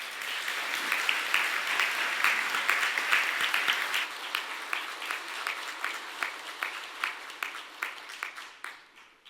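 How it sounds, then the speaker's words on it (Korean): Audience applause at the 2025 Samsung Ho-Am Prize award ceremony, a dense steady roar of clapping that thins into distinct individual claps and fades out toward the end. "다시 한번 김승우 교수님께 뜨거운 박수 부탁드리겠습니다."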